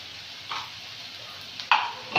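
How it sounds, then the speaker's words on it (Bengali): A spatula scrapes and stirs soybean chunks and potato through oil-glossed spice paste in a pan, with a soft steady sizzle and a few sharper scraping strokes near the end. "এবারে সয়াবিন আলুটা দিয়ে ভালো করে কষে নেব।"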